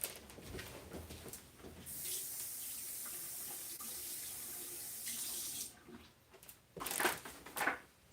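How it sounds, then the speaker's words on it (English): Water runs from a tap as an item is rinsed, a loud hissing gush that flows steadily for several seconds, then breaks into shorter splashy bursts as the item moves under the stream. "I'm just going to rinse this off quick and see"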